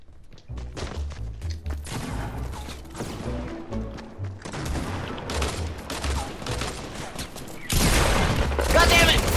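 Rapid Fortnite gunfire crackles in dense bursts throughout, with thumping impacts and a louder, harsher burst of shots near the end, mixed with game noise and a voice talking over it.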